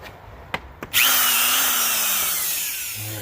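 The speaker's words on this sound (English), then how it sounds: "We got the drill plugged in here." After two quick clicks, a corded electric drill whirs up to speed and runs steadily and loudly for a couple of seconds before starting to wind down.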